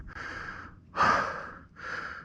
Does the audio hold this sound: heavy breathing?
yes